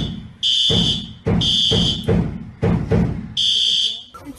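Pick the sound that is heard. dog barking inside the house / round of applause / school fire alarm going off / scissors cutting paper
school fire alarm going off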